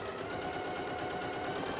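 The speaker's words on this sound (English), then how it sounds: "I'm just going to go ahead and sew a 1/4 inch seam on the side," A sewing machine stitches a quarter inch seam on small patchwork pot holder pieces, a fast, even, close mechanical rattle running steadily without a break.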